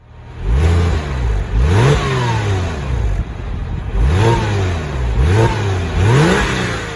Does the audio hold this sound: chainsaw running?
no